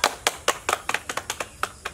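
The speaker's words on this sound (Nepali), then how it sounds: "ताली बजाउनु" Small audience at a magic show clapping in a loose, rhythmic burst of about a dozen close, sharp hand claps, evenly spaced, with no talking.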